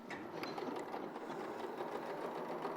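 A sewing machine runs steadily while stitching a quarter-inch seam along each side of a marked line, a close, continuous mechanical whir with a fast needle rhythm and no talking.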